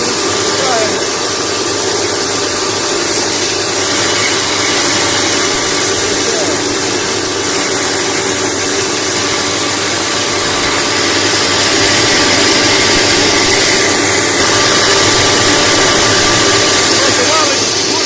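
A steady motor hum with a constant mechanical whine runs throughout, loud and close, with some machine vibration beneath, from an electric hay chopper with a 5.5 kW three-phase motor.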